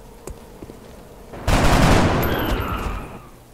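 Burst of rapid automatic gunfire in XCOM: Enemy Unknown, a sudden loud crackling volley that rings on and slowly fades, with a few faint clicks before it.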